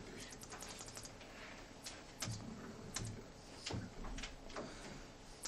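Keys on a computer keyboard are tapped in quick, faint clicks, with a few louder strikes spaced through the short stretch in a quiet room.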